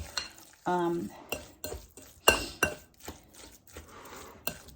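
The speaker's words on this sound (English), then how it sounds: "just stir those onions around in there" Onions get stirred in a pan as a tuna, mayo and egg mix is prepared, giving soft scraping strokes and faint sizzle broken by sharp clinks of a utensil against the pan, close and intermittent.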